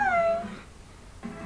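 A Manx cat with no tail meows indoors, one clear drawn-out call with a falling pitch at the start, then a quieter pause and a short second sound near the end.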